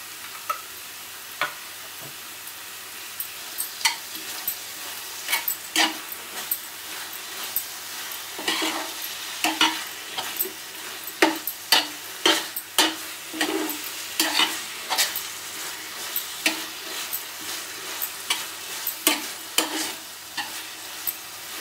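A mixture stirred in ghee in a pan, steady sizzling under frequent scraping and clinking strokes of a spoon, growing busier and more rhythmic partway through; close and fairly loud with no talking.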